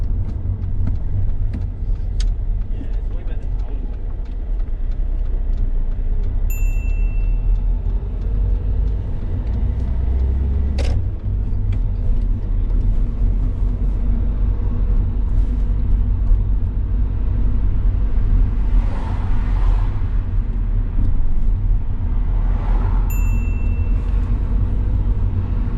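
Low, steady road and engine rumble comes from inside a car driven by a learner on a UK mock practical driving test, continuous throughout with a few faint clicks and brief swells.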